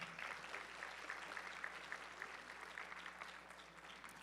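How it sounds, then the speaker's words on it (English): Quiet, distant audience applause at a USA Powerlifting medal ceremony, a thin steady patter of clapping from a sparse crowd that continues evenly throughout. "Give her another round of applause."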